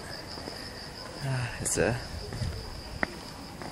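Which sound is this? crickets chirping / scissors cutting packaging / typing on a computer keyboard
crickets chirping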